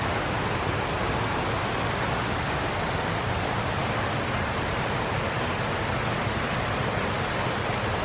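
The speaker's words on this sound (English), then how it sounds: "Oh, there's another little waterfall down here." A small waterfall in a creek in the Alabama woods, a steady broadband rush of falling water that stays even and fairly close throughout, with no talk.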